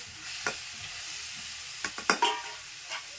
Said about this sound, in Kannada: ಟೊಮೆಟೊ ಹಣ್ಣು ಕಟ್ ಮಾಡಿ ಟೊಮೆಟೊ ಹಣ್ಣು ಫ್ರೈ ಆಗಬೇಕು